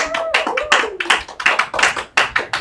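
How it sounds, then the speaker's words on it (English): A studio audience on a TV talk show applauds a guest with a warm round of hand claps, close and steady, with a few sharper individual claps standing out and a brief voice-like tone early on. "A nice warm round of applause and welcome to the show, Joy Brand."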